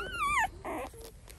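Nursing puppies whimper up close, with a rising and falling high-pitched whine followed by shorter, softer whines and a low murmur.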